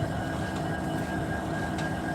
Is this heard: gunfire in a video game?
no